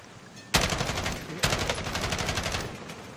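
Sustained automatic gunfire from Call of Duty Warzone, two loud bursts of rapid, evenly spaced shots, the second one longer and fading out near the end.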